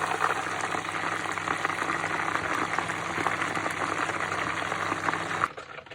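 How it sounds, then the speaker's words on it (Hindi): Masala-coated chicken drumsticks fry in hot oil, a dense, steady crackling sizzle that fills the space up close, then cuts off abruptly near the end. "जल्दी जल्दी फ्राई कर लेते हैं। ये देखें"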